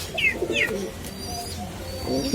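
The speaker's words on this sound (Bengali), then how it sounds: "এটা চীনা টেডি কবুতর।" A Chinese teddy pigeon coos close by, a few soft low calls at the start and again near the end, with faint chirps from other birds and quiet surroundings.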